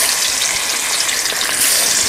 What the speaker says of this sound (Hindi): गाइस हमारा तेल गरम हो चुका है, अब इसमें डाल देते हैं मछली को।